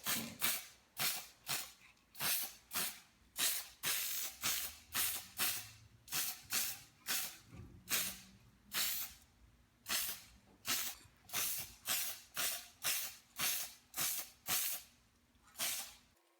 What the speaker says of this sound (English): sprayed them with a hammered black spray paint